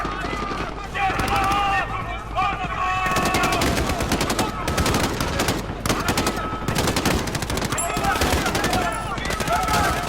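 Gunfire in a Modern Warfare video game mission: dense bursts of automatic shots and scattered single cracks fill the scene, with explosive thumps and game music layered underneath, loud and continuous throughout.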